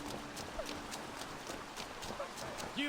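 A horse's hooves clip-clop at a steady walking rhythm in a Viking-era action adventure game, faint under background game ambience with soft sounds of voices.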